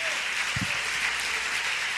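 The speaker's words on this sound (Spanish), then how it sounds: "Fuerte ese aplauso al Rey de Reyes" A church congregation at an evangelical Assemblies of God service claps together in a sustained, even burst of applause that carries steadily throughout, with no voices over it.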